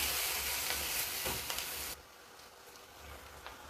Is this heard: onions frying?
yes